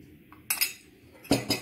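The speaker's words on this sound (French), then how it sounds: "Et je mélange bien le tout." Several quick clinks of a utensil against a bowl as flour and eggs are mixed for fresh homemade pasta, two short clusters of bright metallic taps with quiet gaps between.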